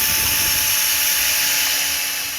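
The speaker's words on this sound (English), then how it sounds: "Now I want to make sure to drill these holes with a space from the edge" A power drill boring holes near the edge of a wooden side piece, one continuous loud high-pitched whine that holds steady and then slightly fades, with no voices.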